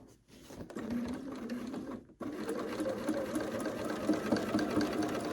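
Sewing machine stitching bias binding at the fabric edge, a steady motorized whir that breaks off for a moment near two seconds and then resumes, close and continuous.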